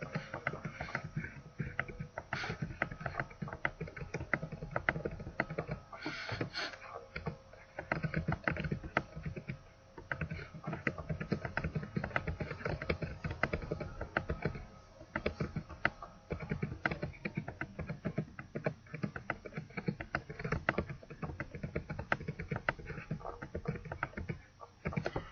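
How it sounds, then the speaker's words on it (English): Steady clatter of keys on a computer keyboard as numbers are entered, a dense, even run of close, soft taps lasting throughout with no talking over it. "So now I'll type in 1, 2, 3, 4, 5, 6."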